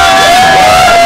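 A live studio audience at a New Year's talk show whoops and cheers, loud and dense, filling the whole brief moment with blended shouting voices.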